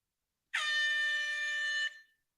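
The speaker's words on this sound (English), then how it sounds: "like you find air horns annoying" A single loud air horn blast rings out for over a second, a bright, steady brassy tone that stops abruptly with a brief fading tail.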